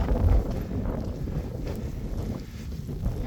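Strong wind blows across an open snowy outdoor spot, a dense, continuous low roar buffeting the microphone with rumbling gusts and no voices.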